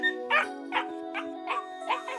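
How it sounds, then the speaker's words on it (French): A puppy yips repeatedly in short, high, evenly spaced bursts, close and clear over a steady background tone. "Un chiot!"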